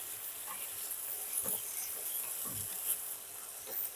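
Ginger and green chillies frying in oil, a continuous soft sizzle with faint crackles and light stirring taps, quiet and close, no talking.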